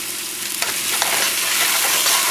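Chicken and okra fry in oil over a moderate flame while being stirred, a close, loud, continuous sizzle broken by a few quick scraping strokes.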